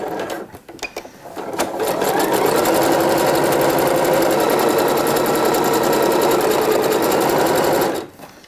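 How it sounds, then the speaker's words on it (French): A sewing machine runs a zigzag stitch through swimsuit fabric and lining, a few short starts giving way to about six seconds of fast, steady needle chatter before it stops. "je passe au point zigzag à la machine"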